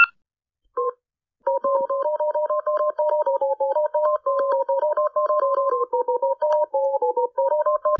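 A cartoon telephone is dialed in a quick run of evenly spaced two-tone beeps after a couple of short initial tones, clean and close with nothing else beneath.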